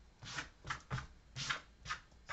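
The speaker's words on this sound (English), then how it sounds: "let's go ahead and get shuffled up here." Soft, close tarot card shuffling in a steady rhythm of about six rustling strokes, with no talking.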